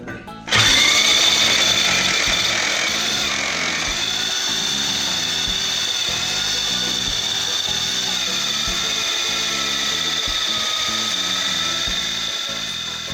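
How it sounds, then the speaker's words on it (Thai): A power drill bores into a precast concrete townhouse wall to make an opening for an air conditioner, a loud, continuous grinding whine with rattling mechanical chatter that runs steadily throughout. "ตอนนี้นะครับช่างก็กำลังเจาะผนังทีแคสนะครับ"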